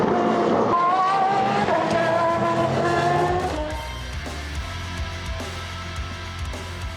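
Aston Martin Valkyrie AMR-LMH race car with a 6.5-litre V12 in Le Mans Ultimate, its engine note climbing through rising gear sweeps before settling into a lower, steady drone; loud and continuous with no talk.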